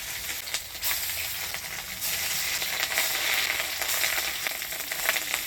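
Katla fish roe sizzles in hot oil in a pan, a dense crackling hiss that swells and dips with occasional sharper pops, close up with no voices.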